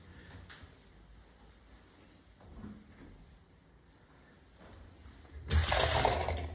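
A shower runs steadily with a hissing rush, with faint knocks and clatter, then surges louder near the end as the flow increases.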